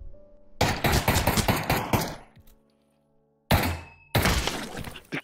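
Bursts of rapid gunfire from the Pavlov co-op zombies video game, a long volley and then a later burst after a near-silent gap, sharp and close with clattering impacts.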